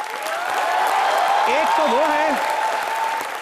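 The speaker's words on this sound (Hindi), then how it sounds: "सो जोरदार तालियों से स्वागत कीजिए उनका।" A studio audience at a comedy talk show gives loud, sustained applause to welcome guests, swelling and holding throughout while a voice speaks over the clapping.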